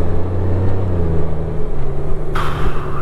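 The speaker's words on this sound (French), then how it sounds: "C'est un bruit d'échappement qui résonne devant" A deep, droning Honda Goldwing 50th Anniversary motorcycle exhaust rumbles steadily with a boomy resonance, close up and continuous, with a brief higher whine near the end.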